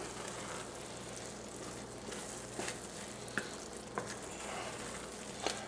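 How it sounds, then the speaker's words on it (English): Rice cooks in a skillet with shrimp, giving a soft, steady sizzle with a few faint scraping clicks as it is stirred, fairly quiet and without speech. "So we're going to give this a good stir."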